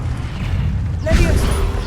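An Incendio fire spell is cast in Hogwarts Legacy: a whooshing magical burst erupts about halfway through over a rumbling game background, with a voice briefly audible.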